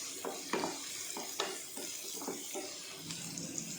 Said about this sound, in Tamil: இப்போ ஒரு நல்லா வதக்கிக்கலாங்க வெங்காயத்தை